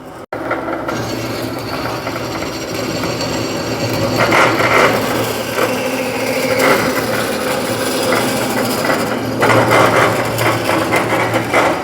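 A Wellsaw 1016 horizontal bandsaw cuts through metal under hydraulic feed, producing a loud, steady grinding whir with a rasping edge that swells at intervals, following a sharp click at the start.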